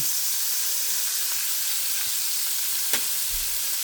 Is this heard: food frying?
yes